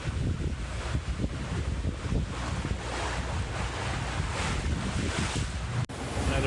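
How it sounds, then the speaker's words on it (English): Strong wind of about 25 to 27 knots at sea while sailing past Dounousa, a steady, loud buffeting roar over the microphone mixed with rushing water, with no talking. "just looking at the wind gauge, we got steady 25, 26, 27 knots of true wind"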